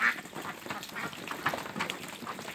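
Ducks quack on a duck farm, a scattered flock calling in short overlapping bursts at moderate distance, fairly faint, with no talking.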